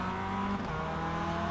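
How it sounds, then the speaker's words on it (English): A race car in a racing video game with its engine held at high revs: a loud, steady buzzing drone that dips briefly in pitch midway, then resumes its constant high-revving tone. "I've done that thing again where my revs are too high"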